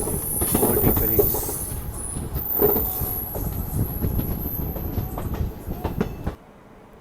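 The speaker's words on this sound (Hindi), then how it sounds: "बाकी ये अपनी ट्रेन पहुंच रही है फरा रेलवे स्टेशन और यहाँ पे ट्रेन लूप हो रही है अपनी" Passenger train on the Delhi–Prayagraj special run pulling into Phara railway station onto a loop line, loud rumbling wagons with high wheel squeal and clattering, rolling steadily before dropping off sharply near the end.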